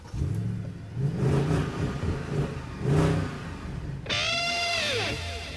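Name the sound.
2009 Mercedes C63 AMG engine revving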